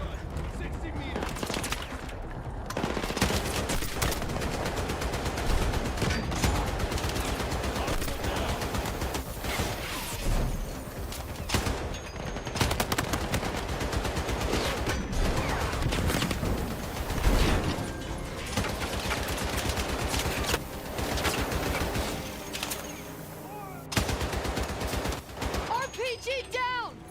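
Sustained gunfire in a Battlefield video game battle, with bursts of automatic machine gun fire mixed into dense, continuous combat noise and explosions, loud throughout with voices speaking over it.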